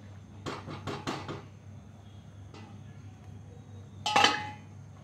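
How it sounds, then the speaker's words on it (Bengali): Metal clanks and clinks as a lid goes onto a kadai of paneer butter masala: a quick cluster of knocks, a lone tap, then a louder ringing clatter, close in a quiet kitchen. "আমি আবার 3 থেকে 4 মিনিট কড়াইটা ঢাকা দিয়ে রাখবো।"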